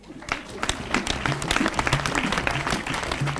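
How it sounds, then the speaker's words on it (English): An audience applauds a team in a hall, the clapping building and holding steady over a low murmur and scattered voices. "let's give them a round of applause"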